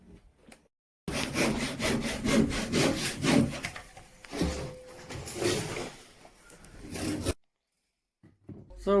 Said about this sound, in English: So we're just trimming these joists back to where they're not rotted.